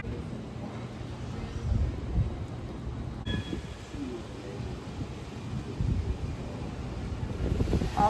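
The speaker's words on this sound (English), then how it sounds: "Just got home and it's pretty blustery and foggy" Blustery, foggy wind in San Francisco buffets the microphone with a steady low rumble and gusty swells that strengthen toward the end, with no talking.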